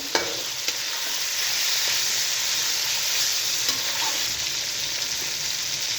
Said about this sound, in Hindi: चिकन मैंने अंदर डालने के बाद तकरीबन 2 मिनट फ्राई कर लिया है।